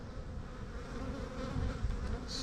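Honey bees swarm over a honey frame lifted from the top box of a hive, a close, continuous buzzing hum that swells slightly toward the end, with no voices.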